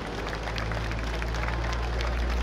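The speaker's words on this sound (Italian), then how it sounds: "in questo momento passano con un vostro applauso d'ingresso" Crowd at the Jesolo air show applauding as a Stearman biplane wing-walking act arrives, a broad continuous wash of clapping mixed with outdoor crowd noise and a low steady rumble underneath.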